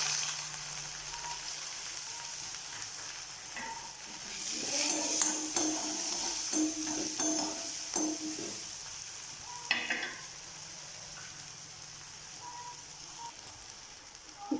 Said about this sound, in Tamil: இப்போ அதே எண்ணெயில் வெங்காயம் ஒரு வெங்காயம் நான் கட் பண்ணி வச்சுருக்கேன், பெரிய சைஸ் வெங்காயம், அது சேர்த்துக்கலாம்.